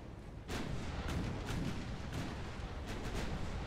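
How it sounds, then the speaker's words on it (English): A 7-inch shell hit in the naval game Ultimate Admiral Dreadnoughts sets off a heavy, continuous rumbling explosion with several crackling bursts layered through it, loud and sustained after a brief quiet start. "That was a 7-inch hit from the Capitana."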